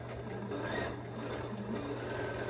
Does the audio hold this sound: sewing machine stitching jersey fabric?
yes